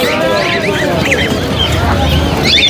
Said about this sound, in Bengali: এই সবগুলো কি মুরগি হবে না মোরগ হবে